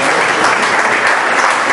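A church congregation claps loudly in a dense, unbroken burst of applause that stays at full strength throughout.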